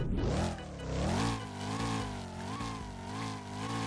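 Supercharged drift car in a Southwest Florida driving video game revs repeatedly, its engine note rising and falling in several loud, close sweeps with no talking.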